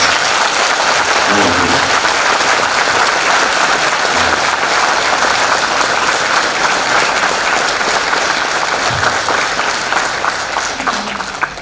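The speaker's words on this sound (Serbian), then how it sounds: "Jedan veliki aplauz." Loud, sustained applause from a crowd at a charity concert in Batočina, continuous and dense throughout, with faint voices briefly audible beneath it.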